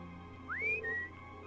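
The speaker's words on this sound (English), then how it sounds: "Innocent whistle." A character in the Trails of Cold Steel video game whistles innocently: a single rising slide into a short held note, then a slightly lower held tone, clear over a steady low music bed.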